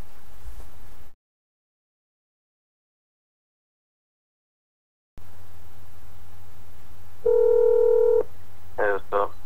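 A phone's keypad tones sound as a number is dialed: after a silent gap and steady background hum, a short run of sustained beeps is followed by a quick burst of separate touch-tone presses, close and clear.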